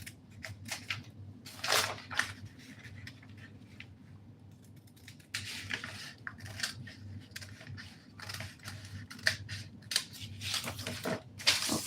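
Scissors cut a dress pattern for a flared dress in short, irregular snips and crisp bursts, close and moderately quiet, with no talking.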